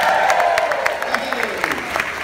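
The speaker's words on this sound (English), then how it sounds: "Hey, they're applauding the hooker." A television studio audience on a love-and-marriage game show breaks into applause, a steady wash of clapping with scattered cheers, while a voice talks over it throughout.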